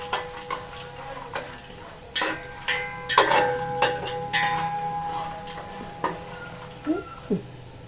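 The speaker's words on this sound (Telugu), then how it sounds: "తాలింపు ఫ్రై అయింది అటుకులు వేసేసుకుంటున్నాను" A tempering of ginger paste, roasted gram and turmeric sizzles in a pan as flattened rice (poha) is stirred in, with irregular loud clacks and scrapes of the spoon over a soft, continuous frying hiss.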